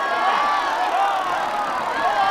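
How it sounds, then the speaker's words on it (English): Crowd cheering at a Quidditch match in the Harry Potter and the Sorcerer's Stone game on PlayStation, a dense continuous roar of many voices, loud and steady for a couple of seconds. "The crowd is on its feet!"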